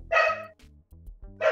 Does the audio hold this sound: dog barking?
yes